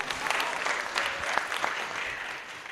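A crowd applauds at a Kenyan cancer advocacy anniversary celebration, lively clapping with sharp individual claps standing out, continuous throughout and fading slightly toward the end.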